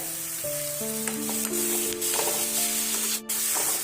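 Tomatoes with turmeric are stirred in a frying pan for dal fry, making a continuous hiss and sizzle with scraping stirs. Steady tones, likely background music, run underneath.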